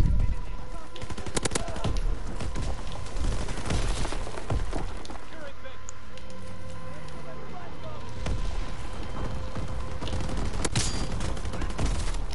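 Video game gunfire rattles in sustained, rapid automatic bursts with scattered heavier bangs, loud and dense throughout, while people talk over it.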